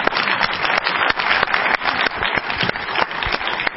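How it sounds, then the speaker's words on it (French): Dense audience applause fills the opening ceremony of the Vernon film festival, a steady crowd of many hands clapping loudly and close throughout, with no speech over it. "On peut avoir chaud pour les applaudir"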